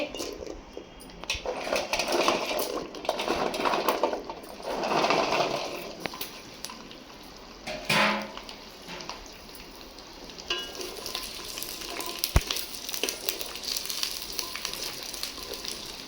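Peeled garlic cloves dropped into hot oil for garlic thokku, crackling and sizzling in loud waves with stirring scrapes and a sharp clink, close by with no talking.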